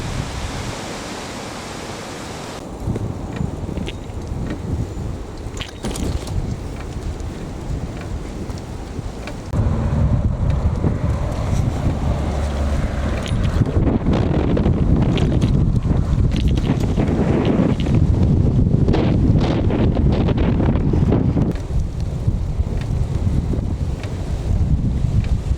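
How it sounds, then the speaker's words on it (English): Strong wind roars steadily against the microphone during a bicycle ride, loud and close, with gusts that intensify midway and stay forceful, no voices. "the wind is crazy"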